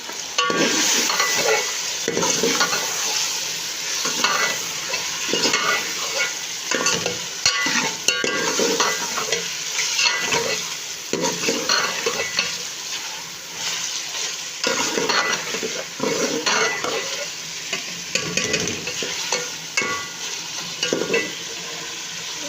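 Chicken pieces fry in a pan with ginger-garlic paste, giving a loud, steady sizzle with frequent stirring scrapes and clinks of a spoon against the pan, with no talking.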